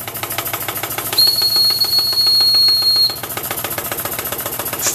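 A restored Bing 130/234 toy steam engine chugs rhythmically while a thin, high whistle sounds steadily for about two seconds, then stops as the chugging continues.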